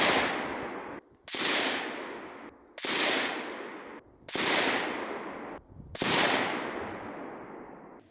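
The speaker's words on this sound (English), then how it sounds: "I removed the suppressor from the gun. So the next 5 rounds through the gun is the suppressor removed, and I fired another 5-round group" An unsuppressed ROC556K rifle fires five rounds of 77 grain Black Hills ammunition at about 100 yards. The shots are loud, sharp cracks spaced roughly one and a half seconds apart, each trailing a long echoing decay, with no voices.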